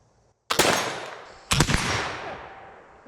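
Two sharp flintlock muzzleloader rifle shots at a silhouette target outdoors, each a loud close crack with a long rolling echo tail, about a second apart.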